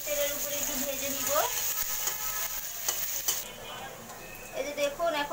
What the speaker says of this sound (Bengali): এখন আমি দিয়ে দিচ্ছি শুকিগুলো আমি এখন তেলের উপরে একটু ভেজে নিব।